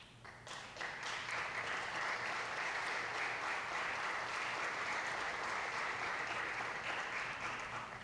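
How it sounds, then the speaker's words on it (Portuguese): Sustained, dense applause from an audience at an opening panel on culture in Brazil, steady and even from start to finish, heard at a distance in a large room. "Muitos aplausos."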